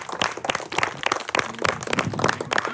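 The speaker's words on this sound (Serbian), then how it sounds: "Dajte jedan veliki aplauz za porodicu Perić!" An audience claps for the Perić family at a house-building show handover, a dense burst of hand claps that stays loud and fairly steady for the whole moment, with no talk over it.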